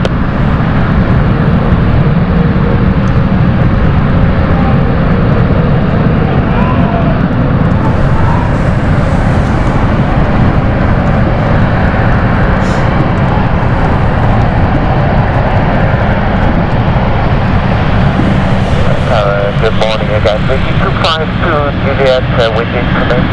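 An aircraft taxiing at London City Airport produces a loud, steady, close engine roar that fills the whole stretch, with radio voices talking over it.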